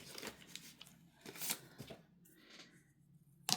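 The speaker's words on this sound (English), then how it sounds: "So let's fold that back and give that a good burnish." Folded cardstock is burnished along its crease, giving soft, close scraping and rubbing strokes in a few uneven passes with a quieter gap, ending in a sharp tick.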